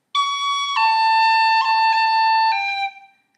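Tin whistle playing the second section of the Irish tune The Hag With The Money: a short run of clear, bright sustained notes with a few quick pitch changes, played solo and close, ending with a brief fade.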